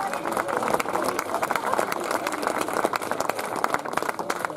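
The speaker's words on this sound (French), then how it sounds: "Les applaudissements pour le deuxième de cette Coupe de France." A crowd claps at the podium of a French Cup cross-country mountain bike race in Marseille, a dense, steady round of applause with some voices mixed in.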